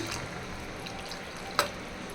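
A steady, soft rush of water pours into a pot of chicken curry, with a single small clink near the end.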